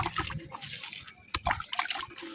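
Water is poured over an organic planting mix containing mango and banana peels, giving a soft, close trickle and splatter with scattered drips.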